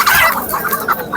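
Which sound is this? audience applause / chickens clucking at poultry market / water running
chickens clucking at poultry market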